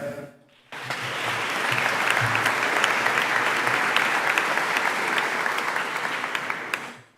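A graduation ceremony audience breaks into applause for an online graduate, dense steady clapping that starts abruptly after a brief quiet moment, holds at a strong level, then cuts off.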